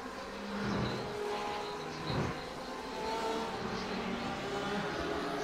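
BMW M8 GTE race car engine in a GTE racing video game, a steady droning engine with shifting revs and other cars around, continuous and moderately loud throughout.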